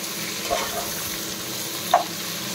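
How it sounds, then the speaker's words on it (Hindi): Onions for a mutton curry frying in hot oil, a steady broadband sizzle with two soft stirring knocks and no voices. "पियाज को भल भाबे पकेकी तेल रे भाजिबा"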